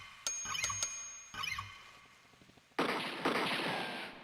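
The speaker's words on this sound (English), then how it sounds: "Get a metronome in there." A few sharp synthetic metronome clicks and bell-like pings from a Suzuki QChord at uneven intervals, followed by a burst of noisy hiss with another hit.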